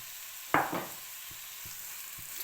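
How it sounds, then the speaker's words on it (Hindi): Boiled, shredded chicken drops into a hot pan of spices and sizzles with a sharp burst, followed by a softer frying hiss and a few quiet taps of stirring. "अब इसमें ये boiled and shredded chicken add कर रही हूँ।"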